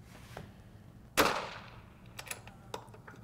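A single rifle shot cracks out sharply and close, with a brief decaying tail, followed by a few fainter ticks and knocks that may be the distant bullet impact on the target; no speech.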